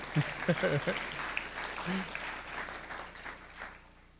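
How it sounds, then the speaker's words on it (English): Applause from an audience at a senior awards banquet, moderately loud and steady for about four seconds, with a few voices and a call from the crowd mixed in. "Yeah, clap for her now."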